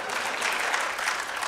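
Dense, steady applause from an audience at a Swami Ramdev Patanjali event in Bangalore, Karnataka. Clapping fills the whole stretch at an even, fairly loud level, with no gaps.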